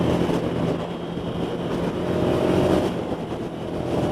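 A 2020 Ducati Scrambler Desert Sled motorcycle cruising on a busy Los Angeles highway, giving a steady engine drone blended with heavy wind rush that swells slightly midway.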